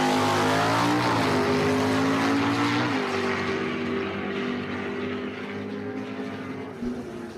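Drag racing engines roar loud and continuous from a 1969 Dodge Dart and a silver Corvette at a dragstrip burnout box, pitch shifting as they rev, then easing slightly toward the end.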